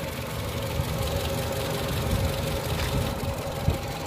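A 2013 Toyota Camry engine idles steadily, a continuous close mechanical hum with a faint ticking texture and no voices.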